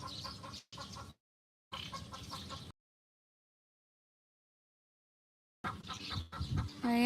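A chicken clucks close by in bursts of short repeated calls, separated by long gaps of silence.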